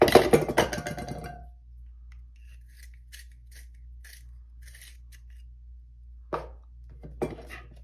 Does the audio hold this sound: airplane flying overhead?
no